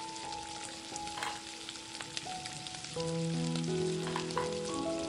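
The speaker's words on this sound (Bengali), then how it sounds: "মিনিট চারেক ক্রমাগত নাড়াচাড়া করে নেবার পর চিকেনের টুকরোগুলো যখন ঠিক এরকম লাল করে ভেজে নেওয়া হয়ে যাবে" Chicken pieces sizzling and crackling in hot oil as they fry for a Gondhoraj chicken fry, a quiet, steady spit with occasional pops and stirring, over a faint background hum.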